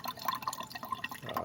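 Water drips from a Hyundai Accent CRDi engine with an overheating problem into a catch container. Soft, irregular drips and trickles sound faint and close.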